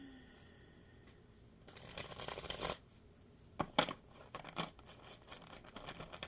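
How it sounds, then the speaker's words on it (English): A deck of tarot cards is shuffled fully by hand, with a riffling burst, then a series of sharp, close slaps and brushes of cards in a quiet room. "I'm going to do a full shuffle."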